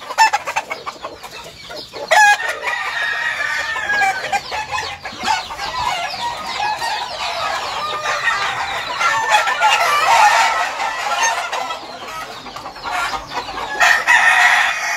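Many fighting roosters crow repeatedly at varying distances in a large shed, overlapping one another, with steady clucking and hen chatter throughout, busy and fairly loud.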